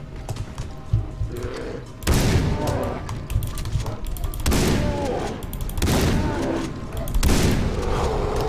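Four heavy shotgun blasts boom out at intervals during a bear hunt in the video game Far Cry 3, each burst trailing into rumbling in-game ambience, with someone talking at times.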